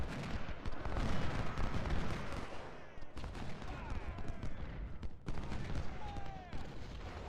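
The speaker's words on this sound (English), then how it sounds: "The Springfields will kind of fire a volley into his flank," Massed Springfield rifles fire a volley into an enemy flank during the Battle of Chickamauga in Ultimate General: Civil War, a dense, continuous rumble of overlapping gunfire and distant booms that dips briefly twice before surging again.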